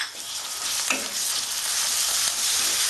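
Ginger and garlic fry in hot oil in a pan for Bengali-style mutton liver, giving a steady, close sizzle with a brief stir partway through and no talking.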